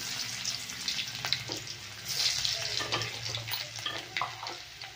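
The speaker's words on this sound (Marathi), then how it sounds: "तेल चांगलं गरम झालेलं आहे। मी टाकणार आहे 1 चमचा जिरी आणि 1 चमचा मोहरी टाकणार आहे आणि लसूण टाकायचं आहे आपल्याला" Cumin, mustard seeds and crushed garlic hit hot oil, giving a crackling, bubbling sizzle with scattered pops and faint scraping of a spoon, moderately close and steady throughout, no talking.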